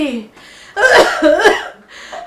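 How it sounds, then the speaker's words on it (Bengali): One harsh, forceful cough bursts out close by, then a shorter second one, with voiced breathy sounds around them. "আর এত সারাদিন হক করে কাশেন কেন?"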